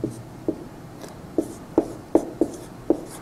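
Chalk tapping and scraping across a lecture board as a word is written, a run of about seven sharp, close knocks with short strokes between them, no talking.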